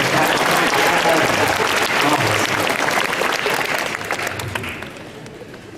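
Loud, sustained applause and cheering from a fan convention crowd at an actor's panel, dense clapping that holds steady and then gradually tapers, with a voice speaking briefly over it.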